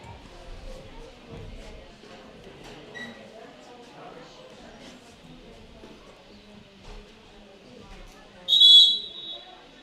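A referee's whistle at an intermediate ladies Gaelic football championship match in Tipperary gives one loud, shrill blast near the end, above distant crowd murmur and talk on an outdoor pitch.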